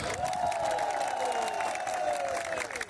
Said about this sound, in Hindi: तो यूथ पावर के लिए एक बार जोर से तालियां हो जाए